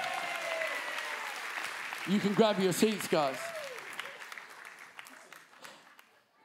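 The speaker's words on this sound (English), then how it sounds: "Come on, give him a round of applause." Applause from a church congregation fills the opening, steady and broad, then tapers toward the end while someone speaks over it.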